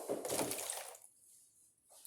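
About a third of a cup of cool water is poured into a measuring cup for homemade chalk paint made with plaster of Paris: a brief close splashing pour lasting about a second, then near quiet with a faint final drip.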